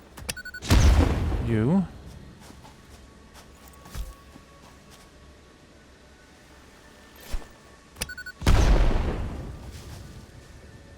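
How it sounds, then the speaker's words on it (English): Two loud bomb blasts in the factory-building video game Satisfactory, set off to clear trees, each a sharp boom followed by a rolling roar, separated by quieter clicks and pops, with a brief spoken word. "assuming I can destroy all these trees with bombs"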